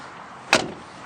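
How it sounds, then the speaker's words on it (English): A car door on a dark gray car shuts once with a solid, sharp thunk midway through an otherwise quiet moment. "you could just hear that door shut"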